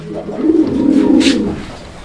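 Raj-golla racer pigeon giving a single drawn-out low coo, close and loud, with a faint soft rustle near the end and no talking.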